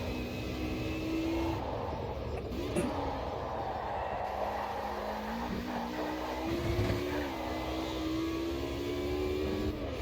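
A classic DTM race car's engine drones through a lap in the Automobilista 2 racing game, its pitch climbing and dropping with gear changes and throttle, steady and fairly loud throughout.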